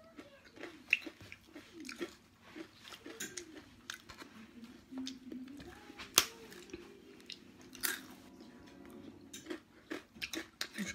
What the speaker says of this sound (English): It's crunchy, really crunchy.